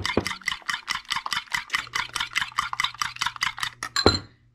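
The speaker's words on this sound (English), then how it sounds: "to stir until it gets to a consistency that I like" Scrambled eggs stirred in a pan with a utensil, about twenty quick rhythmic scraping clinks in steady succession, close and clear, ending with a sharper knock.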